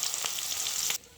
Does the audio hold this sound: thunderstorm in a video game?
no